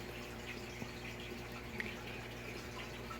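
Tap water runs steadily while pool filter sand for an aquarium substrate is rinsed, a low continuous rushing wash with faint splashes and no talking.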